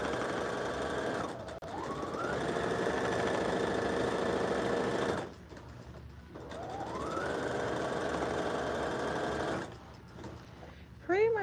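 A sewing machine stitches costume sleeves for a New Year's Eve parade in two long steady runs of rapid mechanical whirring, each ramping up in pitch at the start, separated by a brief pause, with a voice talking softly underneath.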